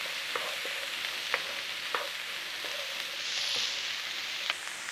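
Vegetables and a pinch of thyme stirred in a pan for mince and dumplings, with a steady low sizzle and several soft scraping strokes of the spoon at uneven intervals, close and fairly quiet.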